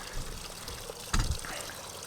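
Water trickles and gurgles out of a pipe in the woods, a steady low splashing flow with a brief louder gush partway through, close by and without talk.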